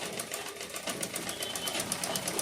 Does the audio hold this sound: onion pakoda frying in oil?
no